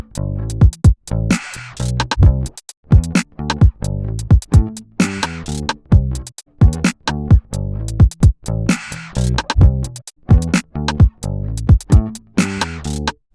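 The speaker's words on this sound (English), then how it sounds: "So I'm gonna write a quick bass part." A simple bass guitar line played by a beginner over a programmed drum beat in a home recording setup, with steady rhythmic plucked notes locked to punchy kicks and snares throughout, no voices.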